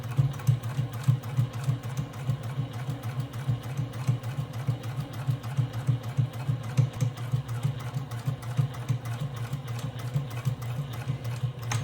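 A sewing machine runs steadily, back stitching fabric for a bag, with a fast, even mechanical chatter and a low motor hum throughout, close and without talk.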